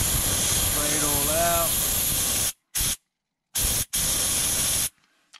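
Cleaner sprayed onto the centre dash speaker cover light sensor of a Mercedes W204, a long loud hiss followed by several short bursts and then a stop, with a voice heard briefly near the start.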